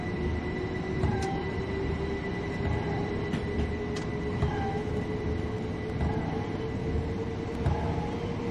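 Eight-car Southern Railway passenger train in Train Sim World 2020 running through a blizzard toward Eastbourne, a loud steady rumble with rhythmic wheel clicks over rail joints and faint squeals, no voices.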